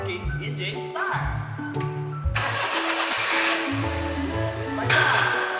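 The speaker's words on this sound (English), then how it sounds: "Okay, engine start!" A car engine cranks and catches, then runs as a steady mid-pitched rumble with a later surge, close by, with a person talking over the start.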